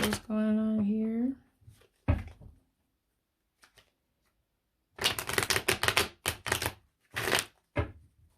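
Tarot cards being shuffled in several quick riffling bursts, close and crisp, separated by short pauses, after a woman's sung or spoken phrase at the start.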